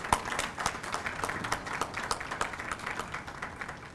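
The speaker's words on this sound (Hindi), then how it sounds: "एक बार जोरदार इनके लिए तालियां बजा दीजिए" Scattered, fairly faint applause from an Independence Day 2020 gathering at Delhi Secretariat, irregular individual claps spread across a few seconds in an open setting, honoring Corona warriors.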